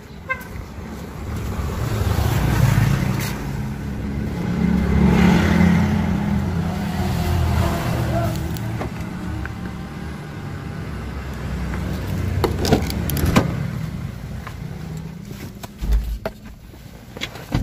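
Mitsubishi Pajero Sport engine on a drive to work, a low rumbling hum that swells and eases amid road and traffic noise, with scattered knocks and clicks near the end and no talk.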